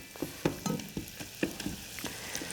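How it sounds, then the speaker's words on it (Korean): Butter, added generously to a pan over low heat for a béchamel base, melts with soft intermittent sizzles and light scraping taps of stirring, close and fairly quiet with no voices. "우선 버터를요 이렇게 좀 넉넉히 넣으신 다음에 요걸 약한 불에서 센 불이 아닌 약한 불에서 좀 녹여주세요"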